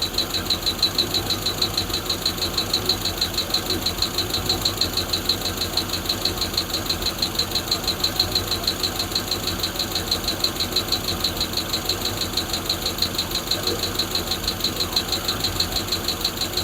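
A Hemi V8 in a Plymouth Duster idles steadily for the whole stretch, a loud, even, rapid rumble with a faint ticking and a bright mechanical whine, no voices over it.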